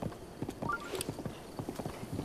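Rhythmic clip-clop of horse hooves in The Legend of Zelda: Breath of the Wild, a quick, steady gallop of soft thuds with a brief whinny-like tone near the middle, fairly quiet and without talk.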